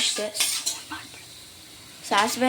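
Mustard seeds roasting in a pan, heard as close clanks and scrapes of a utensil against metal with a faint sizzle, the clatter coming in short bursts at the start and again near the end.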